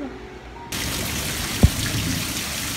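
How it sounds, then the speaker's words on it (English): Heavy rain starts suddenly outdoors as a loud, steady rushing hiss, with a single sharp thud partway through. "It's really loud out here because it's raining really hard."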